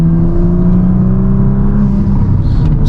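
An Audi S4 fitted with a sway bar kit, driven in manual mode with paddle shifters in a higher gear, gives a loud, steady, close engine drone with no talking.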